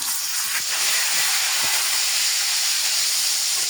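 Marinated daing na bangus milkfish hits a hot pan and fries with a loud, steady hiss that fills the whole stretch, with a few faint pops near the start.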